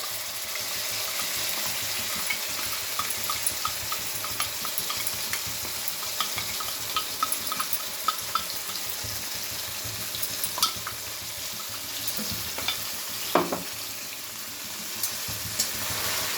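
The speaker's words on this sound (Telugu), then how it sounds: "ఇప్పుడు నేను మిక్సీ చేసిందంతా పేస్ట్ ఈ ఆయిల్లో వేస్తున్నాను" Ground curry paste of paneer and potato gravy, made without onion or garlic, sizzles in hot oil with cumin and bay leaf, a steady loud frying hiss with small pops and a clink from stirring.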